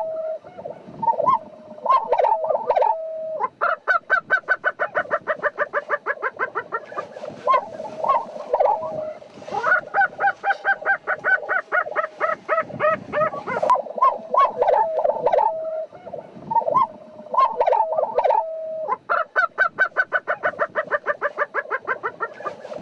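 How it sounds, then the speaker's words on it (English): Lesser prairie chickens calling outdoors, loud and close, with repeated clucking and cackling bursts over a sustained hooting drone, continuing in waves throughout. "So this is going to be a Lesser Prairie Chicken."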